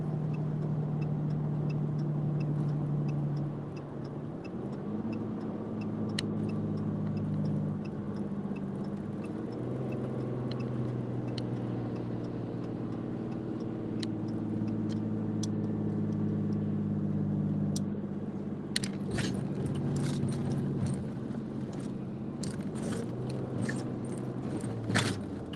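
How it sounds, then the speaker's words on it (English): A truck engine's Jake brake drones loudly, a low rumbling roar that shifts pitch in stages over a long stretch, heard up close from inside the vehicle while towing an ambulance. "Love that Jake brake."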